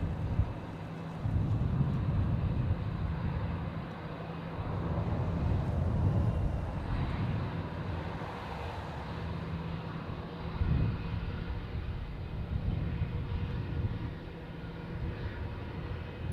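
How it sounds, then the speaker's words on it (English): A Boeing 747 airliner taking off at an airport, a distant, steady low engine roar that swells and fades gently over the whole stretch, with wind noise and no talking. "Did you enjoy the 747?"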